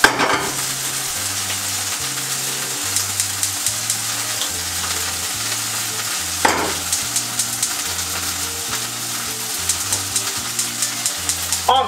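Onions fry in oil on a hot hamburger griddle, with a steady, close sizzle running throughout, a brief louder crackle midway, and a faint low rhythmic hum underneath.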